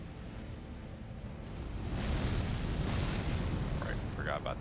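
An explosion in Elden Ring swells into a broad, rumbling roar that builds and then sustains at moderate loudness, followed by faint chirping game effects near the end.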